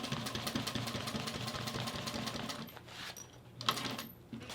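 Juki industrial sewing machine running in a steady fast mechanical chatter, then easing off and stopping partway with a few faint clicks and handling noises after, fairly quiet and close.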